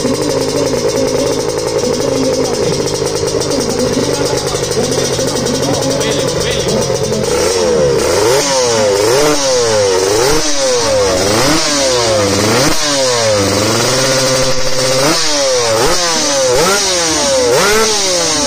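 A motorcycle engine runs roughly at first, then is revved hard in repeated rising and falling bursts. It stays loud and close throughout, with voices faintly audible underneath.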